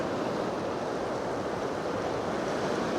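Ocean waves wash onto a beach at Goseong in Gangwon, a steady, dense roar of surf with some wind noise, continuous and fairly close, with no voices.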